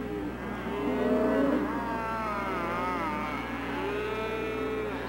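Cattle moo at a ranch during calf branding, with several long, drawn-out lowing calls that overlap over a constant engine-like hum. The calls are moderately loud and somewhat distant, with no voices.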